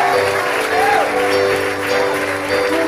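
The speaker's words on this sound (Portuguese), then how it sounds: "Levante as mãos e aplauda ele bem forte em nome de Jesus" A church congregation applauds loudly and steadily throughout, the clapping blending with music and voices in a full, crowded sound.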